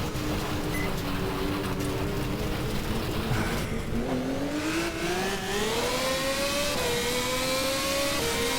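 Race car engine in the racing game GTR2 after a downshift made too early, revving loudly and rising steadily in pitch over several seconds, with a constant close roar and no talking.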